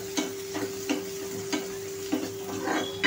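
Onion and cabbage stir-fried in a pan for Manchurian bhaji, with a spoon scraping the pan in regular rhythmic strokes over a constant background sizzle and a steady hum.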